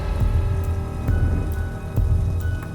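Steady rain pours down in an animated story's nighttime scene, a dense, continuous hiss with scattered sharper drop impacts, no voices.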